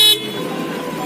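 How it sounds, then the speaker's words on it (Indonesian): A German-made Fugen horn fitted to a Yamaha NMAX scooter blares loud and close in one sustained, steady tone after a brief sharp burst at the start. "ini dia suara klakson Fugen ya. Suaranya kencang ya. Agak mirip-mirip klakson CRV ya."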